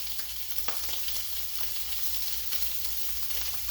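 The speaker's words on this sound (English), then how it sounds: "Take our second sausage. I'm going to drop it in." Sausage sizzling in a pan of mushroom and sausage ragu, a steady close frying crackle with a few sharper pops, no voices.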